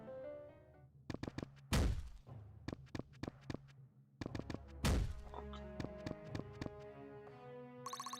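Arcane missiles spell cast in the video game Dark Deity, two rounds of sharp thunking impacts in quick rhythmic volleys, each with a heavy boom, over quiet game music.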